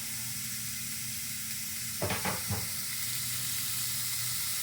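Hot Italian sausage, taken out of its casings and broken up, is put into a pan, and a steady, faint sizzle plays throughout, with a few brief louder crackles and spatters near the middle.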